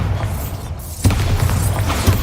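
A Bombarda blasting spell in the Hogwarts Legacy game detonates with a single heavy boom about midway, followed by rumbling, crumbling debris that fades under continuing game ambience.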